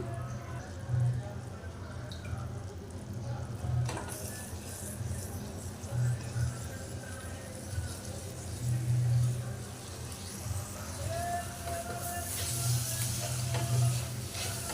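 Melted jaggery and coconut being stirred in a pan, with steady sizzling and recurring scraping stir strokes at a moderate level, close by.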